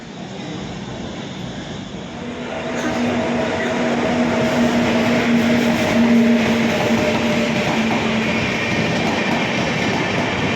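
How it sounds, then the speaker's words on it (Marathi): The 12051 Madgaon Jan Shatabdi Express rumbles into Thane station and grows louder, wheels clattering with a steady hum and a sustained tonal whine, continuous and close. "फायनली आपली ट्रेन लागते ठाणे स्टेशनला"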